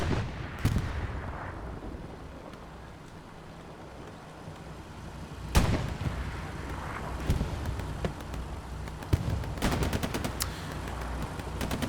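Gunfire and explosions from a competitive Hell Let Loose match on the Utah map, with a rocket launch among sharp blasts at scattered intervals, all over a constant rumbling battlefield din.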